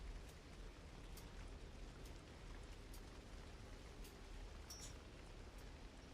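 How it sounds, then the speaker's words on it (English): Rain ambience on a custom map in the video game Trials Rising: a soft, even hiss of steady rainfall with faint drop ticks, quiet and uninterrupted with no talking. "Listen to the rain."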